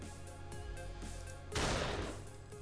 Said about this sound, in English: in the distance, the sound of gunfire.